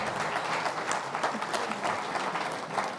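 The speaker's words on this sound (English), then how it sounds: "Let's give him a big round of applause." Audience applause fills an awards gala hall, a steady dense clapping that holds at full strength from start to finish with a faint murmur of the crowd beneath it.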